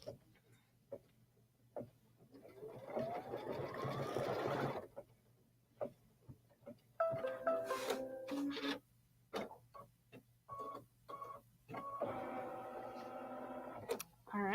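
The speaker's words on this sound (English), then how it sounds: "We still got 20-something, 23 minutes of stitching because of all the satin stitch." An embroidery machine stitching satin stitch runs in a steady, faint mechanical whir with rapid ticking, stopping and starting in stretches. A voice speaks quietly between the running passages.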